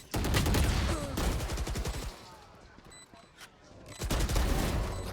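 Rapid bursts of gunfire ring out in a professional Valorant esports match, two dense volleys of sharp shots separated by a quieter stretch with sparse single cracks, loud and close.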